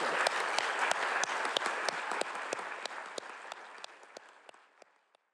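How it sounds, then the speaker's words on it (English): Forum attendees at a naval war college strategy event give the speakers a round of applause, a moderately loud, even clapping from a large audience that tapers off and ends in silence. "great round of applause for our speakers."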